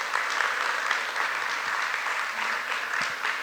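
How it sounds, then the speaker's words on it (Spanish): An audience applauds a panelist at a music-business dialogue panel, steady, dense clapping from a crowd sustained throughout at an even level. "un aplauso para John, por favor."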